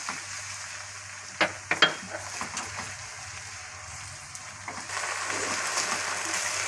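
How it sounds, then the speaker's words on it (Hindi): Garlic paste frying in hot oil in a home kitchen, a soft continuous sizzle with a few sharp clinks of a spoon against the pan early on. "मैंने दो चम्मच भर के खाने के लहसुन का पेस्ट डाल दिया, वो हमारा फ्राई हो रहा है"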